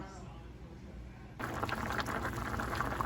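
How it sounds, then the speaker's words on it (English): Canned green beans boiling in a pot on a stovetop set to 7, a steady bubbling hiss that grows louder partway through, close and continuous with no talking. "my green beans are boiling and smelling wonderful"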